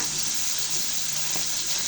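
Onion paste sizzles and spits in hot oil left from frying pangas fish, a steady, close, dense crackle that runs unbroken for the whole short stretch.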